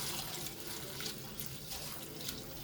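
Barley and flaxseed rice being rinsed in water, a steady close splashing and sloshing with running-water hiss and no talking.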